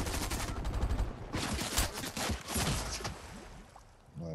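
Automatic gunfire crackles through a Fortnite match, with dense rapid bursts of shots rattling on and off, fairly loud and close with no talking.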